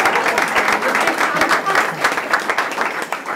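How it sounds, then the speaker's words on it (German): Audience applause at a Narrenzunft carnival club's Eleventh-of-the-Eleventh event, a dense, steady wash of many hands clapping close by, sustained throughout with no voices rising above it. "Darf man ruhig extra klatschen."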